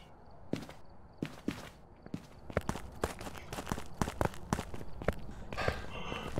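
Footsteps crunch in snow in the game Phasmophobia, a run of crisp, uneven steps that grow denser and louder, close and alone.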